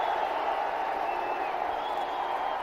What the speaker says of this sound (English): The crowd is also applauding it.